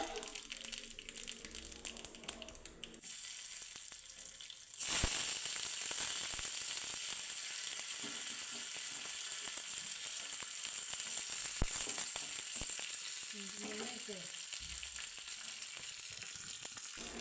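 Mustard seeds crackle in hot coconut oil as a tempering for a ripe mango curry. The sizzle starts abruptly partway through and then holds as a continuous loud frying hiss.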